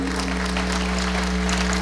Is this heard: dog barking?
no